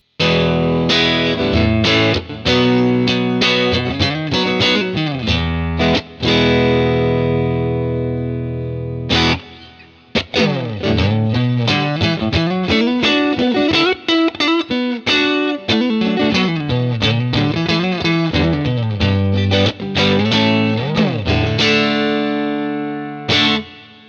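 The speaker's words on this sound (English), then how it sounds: "So now we're gonna be hearing the neck pickup and it sounds like this." A distorted electric guitar on its neck pickup plays a loud melodic riff of ringing notes and chords, with a brief pause partway through before continuing.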